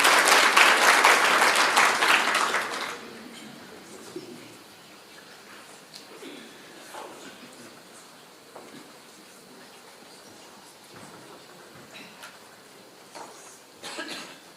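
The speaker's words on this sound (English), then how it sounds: "Let's give him a round of applause" Brief burst of audience applause at a research colloquium for a PSA union representative, loud for about three seconds then cutting off, followed by a quiet room with faint scattered sounds.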